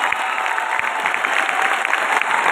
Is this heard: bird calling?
no